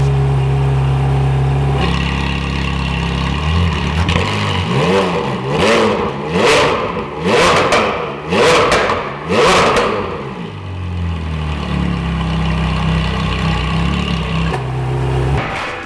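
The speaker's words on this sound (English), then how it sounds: "got the Capristo exhaust put on it. It sounds amazing." A Ferrari's Capristo aftermarket exhaust idles with a deep rumble, then revs hard several times in loud bursts before settling back to idle.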